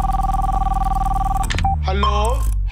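Telephone being dialed for a call, with a steady dial tone and tonal beeps, then a short run of rising electronic tones, loud and close.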